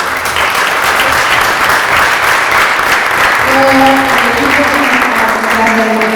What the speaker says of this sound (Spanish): merece un aplauso también a Josefina hoy día